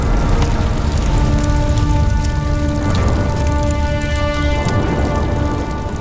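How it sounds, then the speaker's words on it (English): Heavy rain in a thunderstorm rolling over a burning city, a loud, dense hiss of downpour that holds steady throughout, with faint tonal layers beneath and no voices. "a tremendous storm rolls over the capital, extinguishing the flames"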